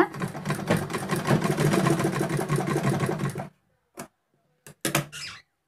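An electric sewing machine stitches a straight seam in fabric for a homemade hair band, a loud rapid mechanical chatter for about three and a half seconds, then a few short clicks and a brief restart, close and without talk.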